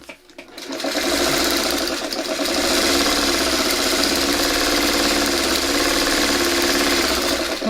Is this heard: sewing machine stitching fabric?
yes